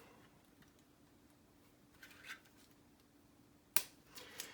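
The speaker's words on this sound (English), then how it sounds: "I'll use my Dymo tape, and I'll cut some off" Scissors cut Dymo label tape at a workbench during a 1/48 scale SR-71 model build: a soft snip, then one sharp, crisp close cut and a faint follow-up, all quiet against near silence.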